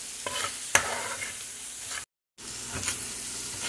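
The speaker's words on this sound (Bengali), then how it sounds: "নাড়াচাড়া করবো" A pan of food seasoned with Kashmiri chili powder gets a light stir, with scraping strokes over a steady low sizzle, broken by a brief gap.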